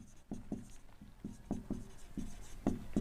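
Writing by hand on a board or paper while solving a maths problem, a run of quick separate scratchy strokes in an uneven rhythm, close and fairly quiet.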